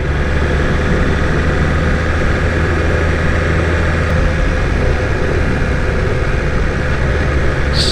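A BMW S1000RR motorcycle engine runs at low revs, rumbling loud and steady throughout, with a broad, rough drone that sounds like riding or wind noise. No one speaks.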